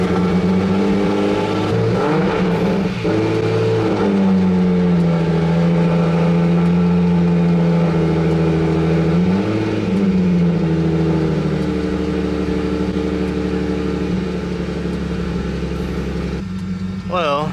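A boosted car engine that runs lean at idle drones loud and steady, rising and falling through a couple of revs, then settles back to a rough, uneven idle before it quiets near the end.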